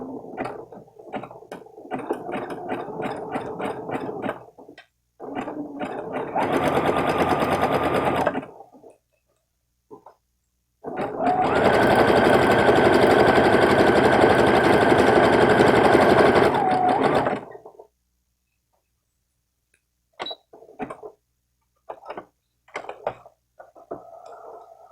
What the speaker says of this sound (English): So now I'm going to start sewing.